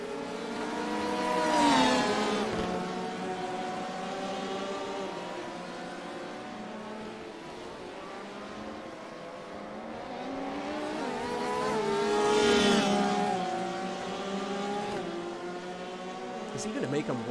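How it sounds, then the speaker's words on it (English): An LMP prototype race car at the 6 Hours of Imola in a racing game, engine howling as it closes in, then fading and passing again, its pitch rising and falling with gear changes, while commentators talk over it. "We've got an LMP coming through here too."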